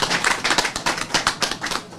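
An audience bursts into dense, steady applause for SOMISEN company staff during a formal speech, with many overlapping claps close by and no voices over them.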